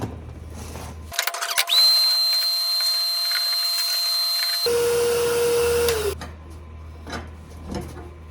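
A vacuum cleaner runs inside a 1984 Suburban, a loud steady whine starting abruptly and droning for several seconds, its pitch dropping partway through as debris clogs or clears, then cutting off to quiet.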